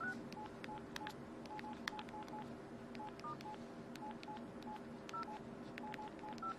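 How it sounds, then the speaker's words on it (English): Touch-tone beeps from a phone's keypad, a quick series of short dialing tones pressed one after another, quiet and close with no talking. "these keys here in the center make the phones like a touch-tone phone from a regular phone, different sounds"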